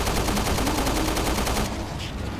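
Sustained, dense enemy gunfire in the survival-horror game Resident Evil Revelations 2, a loud continuous barrage of rapid shots that drops to a quieter tail near the end.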